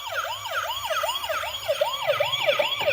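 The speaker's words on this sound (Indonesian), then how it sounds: "Kita coba mobil ambulans dulu ya." A toy ambulance sounds its electronic siren, a wailing up-and-down tone repeating about three times a second, steady and close, with no voices over it.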